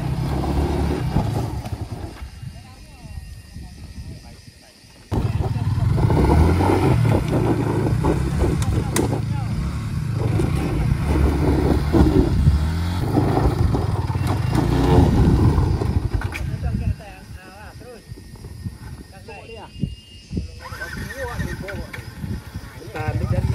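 A Yamaha motorcycle engine strains and revs loudly as it climbs a steep wooden ramp at an outdoor hill-climb challenge, with the engine note sustained and rising under excited shouting from onlookers.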